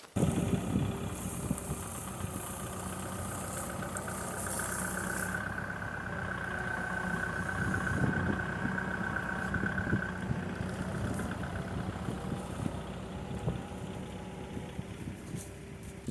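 A diesel tractor engine idles steadily nearby on a farm with a low continuous rumble and vibration, running alone without speech for the whole stretch.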